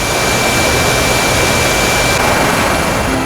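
A helicopter sent with disaster aid flies from Kualanamu airport near Medan, North Sumatra, giving a loud, steady, unbroken engine and rotor roar with no voices.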